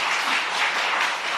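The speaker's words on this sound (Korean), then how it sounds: "우리 박수를 한번 수고했다고." Congregation applauding students and teachers at a Sunday afternoon church service, a dense, even wash of many hands clapping, steady and moderately loud throughout with no speech.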